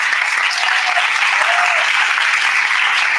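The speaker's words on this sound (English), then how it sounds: "Give a round of applause." Applause from the audience at a panel discussion on media and information literacy in Sarawak, a dense, even burst of many hands clapping that stays loud and steady for about three seconds.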